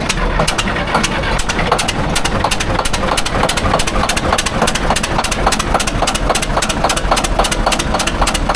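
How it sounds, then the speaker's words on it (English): Old heavy equipment diesel engine at an auction running rough on three cylinders, loud and close with an uneven, rapidly pulsing chug throughout. "I think she's only running about 3 cylinders."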